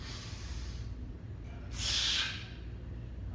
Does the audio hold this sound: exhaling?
yes